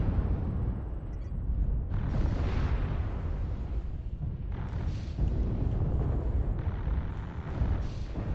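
Artillery strike explosions from the MechWarrior Online game, a dense, rumbling barrage of booming blasts that roll on continuously with surging bursts, loud and close throughout.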